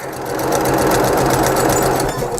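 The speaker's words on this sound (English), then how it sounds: "I'm going to go ahead and continue sewing." A sewing machine stitching fabric for a small patchwork tote bag, a loud, steady, fast mechanical whir running without pause and with no talking.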